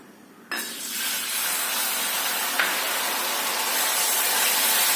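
Chilli pickle sautéing in a pan with salt and lemon juice: a sudden loud sizzle starts after a brief quiet and then holds as a steady hissing fry, with a small extra burst partway through.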